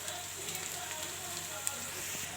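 Onions frying in a pan with a pinch of salt and turmeric, a steady close sizzle with faint crackles and one brief sharp pop, no voices.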